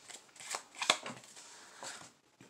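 Playing cards overhand-shuffled, with soft papery slides and flicks as cards peel off one or a few at a time, close and quiet.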